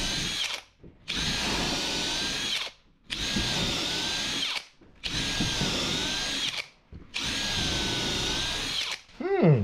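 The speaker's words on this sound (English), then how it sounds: "I'm going to have to drill through here and then through whatever I run into on my way to the inside of the boat" A power drill bores through a boat hull in four long whining runs separated by brief pauses, loud and close, with a quick rising spin-down at the end.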